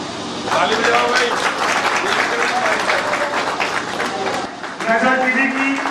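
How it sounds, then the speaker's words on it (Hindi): An audience claps steadily through most of a sanitation workers' conference ceremony, the dense applause dipping briefly near the end before picking up again, with voices audible underneath. "ताली बजाओ भाई।"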